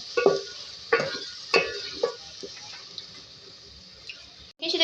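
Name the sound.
sautéing aloo baingan masala with a little water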